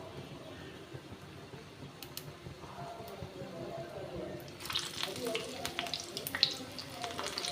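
Batter-dipped cauliflower pieces drop into hot oil on medium heat, with a soft sizzle that suddenly swells into a louder, crackling fry about halfway through.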